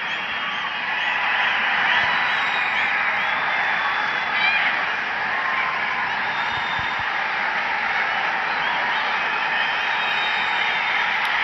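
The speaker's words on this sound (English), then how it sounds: "You can hear the crowd in the background." Dense crowd noise fills a large stadium during a women's football final between Nepal and Jordan at the Prince Abdullah Al Faisal Stadium, a steady roar with cheering from a big Nepalese contingent, heard continuously at a distance.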